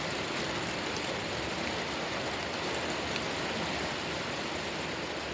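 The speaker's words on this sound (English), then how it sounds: "There's literally like so much rain." Heavy storm rain pours down in a steady, dense roar that fills the whole clip, loud and continuous with no voices.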